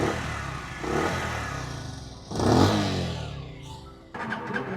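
A motorcycle engine is revved with the throttle in a few short bursts, the exhaust note rising and falling close by, with a sharp rev near the middle and a rough idle at the end.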